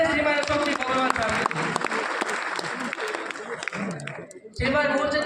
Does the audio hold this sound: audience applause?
yes